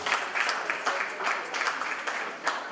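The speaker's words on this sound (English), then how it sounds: "Please a round of applause for her." Conference audience applauding a librarian being introduced at a polytechnic's international conference, a steady wash of many hands clapping with small surges, moderately loud and continuous.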